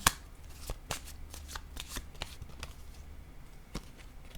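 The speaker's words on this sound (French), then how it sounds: "J'ai le goût de déposer une carte rose sur ce masculin, sur l'empereur." Tarot cards shuffled and laid down on a table, a string of crisp close riffles and soft flicks with short pauses between them, no talking.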